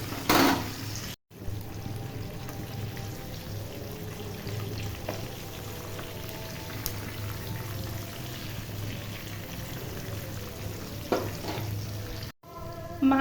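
Hilsa fish pieces fry in oil in a pan, a continuous close crackling sizzle that holds steady for the whole stretch, broken only by two very brief gaps, with no one speaking.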